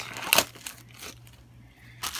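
A sealed plastic baggie holding a short Cat7 patch cord crinkles up close in a few quick, soft rustles.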